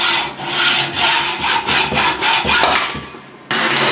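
A hand hacksaw cuts off the end of a threaded bolt clamped in a vise, with rapid rhythmic back-and-forth rasping strokes, close and loud, no talking.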